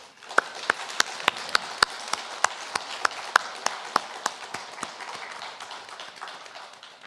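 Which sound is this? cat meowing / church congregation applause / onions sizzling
church congregation applause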